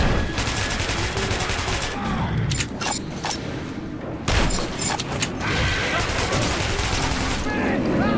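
Rapid gunfire in the shooter Metro 2033, dense bursts of shots and mechanical clatter filling the scene nearly nonstop, with shouting voices mixed in.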